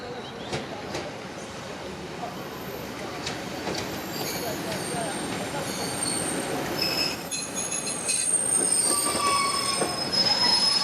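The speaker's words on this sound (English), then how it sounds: "back to the station and the next train to Carlisle." Train wheels squeal on the rails in high, wavering screeches over a rumbling roll, growing louder toward the end, on the Cumbrian Coast line.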